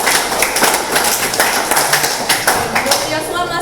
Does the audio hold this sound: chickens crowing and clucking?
no